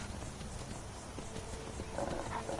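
Horse hooves clop unevenly on a hard surface, fairly faint, with a murky ambient background and a few brief tonal sounds near the end.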